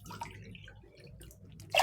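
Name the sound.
cup of water poured into pot for khara pongal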